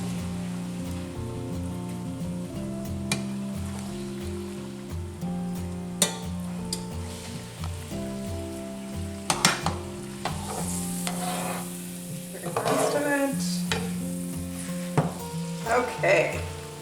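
Burger and cabbage mixture sizzling in a pan while being stirred, a continuous soft fry with scraping and clinking of the utensil, close up with occasional louder knocks.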